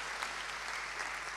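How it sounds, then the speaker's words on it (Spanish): Applause from an audience at a Spanish-language competency-based assessment workshop, a steady wash of clapping at a constant low level for the brief moment, with no voices over it. "así que un aplauso para ella"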